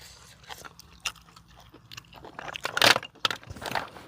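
Close, crunchy chewing of boiled apple snails, with irregular crisp bites and crackles, growing louder toward the end.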